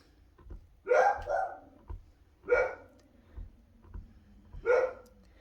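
Three short bursts of dog barking at a moderate distance, spaced a couple of seconds apart, with faint low thumps in between.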